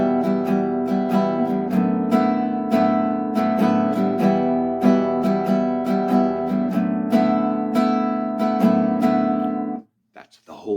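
An acoustic guitar strums a chord pattern in a steady, rhythmic loop, close and full, ending with a brief pause and a last light strum.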